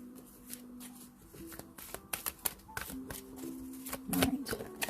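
Oracle cards are shuffled and pulled from a deck, giving a busy run of riffling, slapping and sliding card sounds close by, with faint talk now and then.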